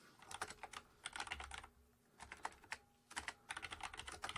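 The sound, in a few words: typing on a computer keyboard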